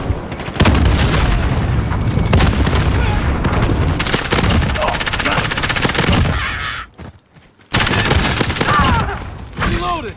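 An explosive charge goes off amid a Call of Duty Modern Warfare firefight, heavy booms and rapid gunfire filling the scene loudly with a brief near-silent drop before the shooting resumes; voices call out in the mix.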